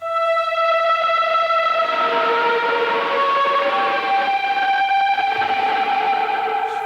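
Distorted synth from a Left Hand Path black metal plugin, a loud sustained chord of buzzing stacked tones that slowly shift in pitch, continuous with no talking.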